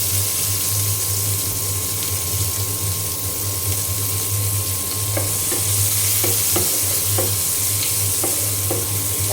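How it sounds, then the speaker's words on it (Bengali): Chopped onions fry in hot oil with a constant, loud, broad sizzle, while a few light clicks and taps of a utensil come through in the second half. "এখন পেঁয়াজটা ভালো করে ভেজে নিয়ে আমি বাকি মশলা দিয়ে দেব"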